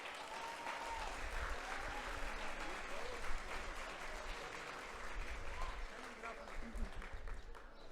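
An audience applauds at a lecture recognition ceremony, a steady wash of clapping under a low room rumble, fairly quiet and continuous throughout.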